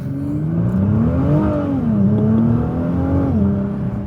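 A 2017 Nissan GT-R accelerates hard, its engine note climbing loud and close, dipping at a gear change and rising again before another shift, with no voices.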